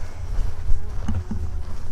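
A low, continuous buzzing of bees hums close by in the Scottish Highlands, steady and droning throughout the short stretch with a faint wind-like rumble.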